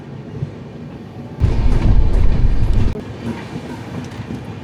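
The 16312 Sriganganagar Express rolls toward Nagaur station in Rajasthan. Its loud, close rattle and clatter of wheels on rails surges sharply for about a second and a half, then drops back to a steady rumble.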